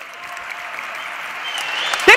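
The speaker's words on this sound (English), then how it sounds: "clap it up for the youngsters one more time." Audience applause at a Web Summit talk in Lisbon, a steady broad wash of clapping from a crowd that swells slightly toward the end, with a brief louder burst near the close.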